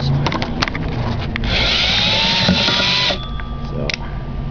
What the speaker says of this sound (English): I suppose I can drill at least one of these holes